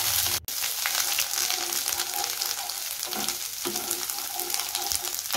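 Ginger garlic paste hits browned sugar in a pan for an amra chutney and fries with a loud, continuous sizzle, stirred steadily, with faint scraping under the hiss.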